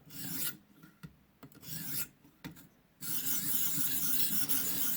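Tanto knife blade rasping across a ViperSharp sharpener to remove the burr, a few short scraping strokes separated by pauses and then a long steady continuous grind, close and fairly loud.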